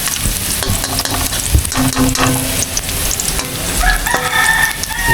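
Chopped onion and garlic sizzle and crackle in a hot pan while being stirred during a sauté, with scraping and clinking of a utensil against the pan, steady and close.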